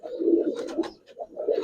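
Giribaz and Army pigeons coo in close, throaty bursts, one rolling call after another with brief pauses between.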